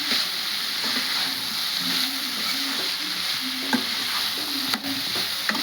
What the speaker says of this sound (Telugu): ఒక 2 నిమిషాలండి దీన్ని బాగా ఫ్రై చేస్తాను